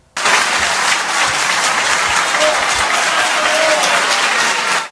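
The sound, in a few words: recorded applause and shouts of bravo at conference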